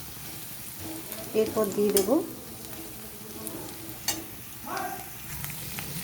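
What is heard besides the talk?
frying garam masala and dried chillies for masala prawns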